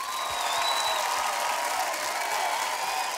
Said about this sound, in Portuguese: um grande aplauso para eles